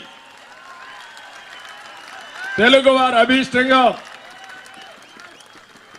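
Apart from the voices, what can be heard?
audience applause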